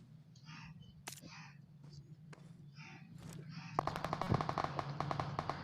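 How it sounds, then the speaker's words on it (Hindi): Rapid bursts of gunfire from a mobile shooter video game crackle in quick repeated strings, faint and under a talking voice, growing denser toward the end. "उधर से फायरिंग होने लग जाती है"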